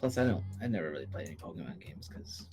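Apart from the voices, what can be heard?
No everyday noises stand out.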